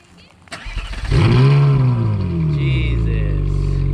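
A 2012 Ferrari 458 Italia V8 fires up and revs hard, a loud, close exhaust roar that swells after ignition and then settles into a steady idle, with people talking nearby.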